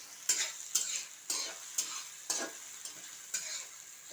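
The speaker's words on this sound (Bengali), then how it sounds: "এটা আমার প্রায় ভাজা ভাজা হয়ে গিয়েছে" Green chillies fry in hot oil with a steady sizzle, broken by about eight sharp scrapes of a spatula stirring the pan at a fairly regular pace, close and moderately loud, with no voices.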